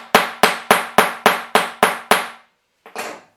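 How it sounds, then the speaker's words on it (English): A hammer gives an eyelet punch through fabric eight sharp, evenly spaced whacks, loud and close with ringing decay, followed after a pause by one softer final tap. "Then you give it a good sharp whack with your hammer."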